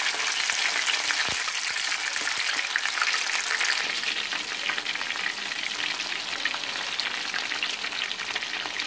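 Chilli chicken pieces fry on a medium flame, giving off a steady, close, bright sizzle with a couple of sharp clicks near the start and no voices.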